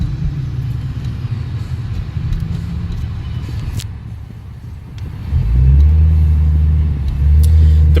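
A custom-built 2010 Honda Accord lowrider on a test drive: steady engine rumble and road noise, easing off briefly before the engine note rises and settles into a louder, higher drone as it shifts up through the gears.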